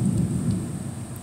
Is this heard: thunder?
yes